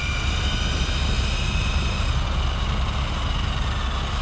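ARRMA Talion RC car at full throttle on pavement at night, giving a loud, steady, high-pitched motor whine with rushing broadband noise that holds for a few seconds without let-up. No one speaks.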